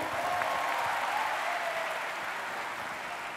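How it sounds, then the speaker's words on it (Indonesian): A crowd at a university student orientation event at UIN K.H. Abdurrahman Wahid Pekalongan applauds in a steady, even roar of many hands that fades slightly toward the end. "Tepuk tangan untuk mereka semuanya."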